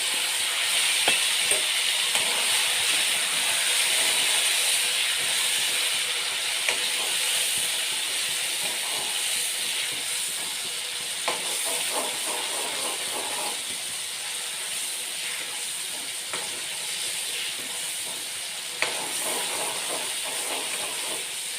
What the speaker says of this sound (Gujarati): ભાજીનો વઘાર આપણે લસણની કટકી અને ટમેટાથી કરશું